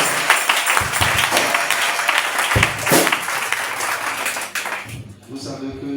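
Church congregation applauding during a worship service, steady dense clapping throughout with voices mixed in, easing off near the end.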